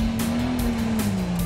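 A beefed-up super farm tractor strains at a tractor pull, dragging a heavy sled through dirt with a loud, sustained engine roar that holds its pitch, then sags slightly, with periodic bursts of noise over the drone.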